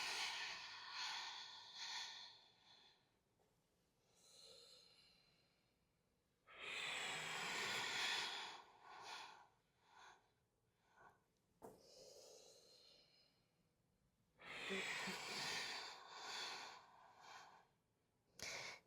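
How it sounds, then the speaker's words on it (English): Slow breathing during an exercise routine: deep inhalations and long hissing exhalations alternate in a steady, unhurried rhythm, close and fairly quiet, with no talking. "Breathing in. Exhaling."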